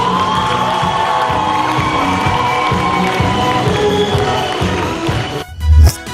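A TV studio audience at a children's entertainment show cheers and applauds the young finalists, a loud, sustained roar of clapping and shouts that cuts off abruptly near the end.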